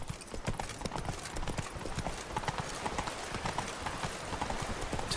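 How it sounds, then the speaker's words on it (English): Galloping horse hooves in The Witcher 3 video game, a steady rapid clip-clop rhythm running throughout at moderate loudness over a dense background of game ambience. "Run, Roach."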